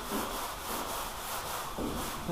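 Primer on a car hood being block sanded by hand, a steady continuous rasping rub with long strokes, close and moderately loud, with no talking.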